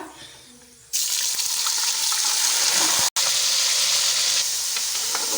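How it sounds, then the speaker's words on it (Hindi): One kilogram of mutton drops into hot oil with whole spices, setting off a sudden loud, hissing sizzle after a quieter start that continues steadily and close, broken by a brief stir. "अब इसमें मैंने 1 kg मटन लिया है, तो इसमें अब जाएगा"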